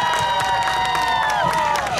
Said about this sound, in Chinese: 再给我们所有的长官还有现场的所有工作人员尖叫声加掌声一下